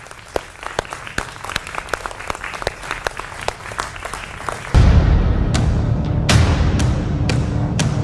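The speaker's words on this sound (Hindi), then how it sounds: "जोरदार तालियों के साथ अभिनंदन है आपका।" A studio audience at a news broadcast breaks into applause to welcome viewers. Sparse, sharp claps come first, then a sudden, loud, dense surge of clapping with a heavy low rumble underneath fills the rest.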